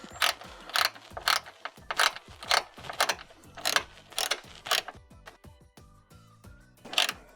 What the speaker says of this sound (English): Use a small ratchet to start to tighten it in.